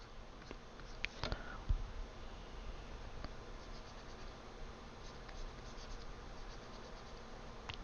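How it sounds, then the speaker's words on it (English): Pencil drawing a nose on paper, a continuous faint scratchy graphite scraping with a few small taps and clicks, close and quiet, with no talking. "And then you're going to draw a 3/4"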